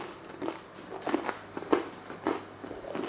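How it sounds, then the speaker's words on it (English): Crunchy garlic and rosemary bread dipped in melted Camembert is bitten and chewed close up, a series of brittle crackling crunches at irregular intervals against a quiet background. "The bread is nice and crunchy."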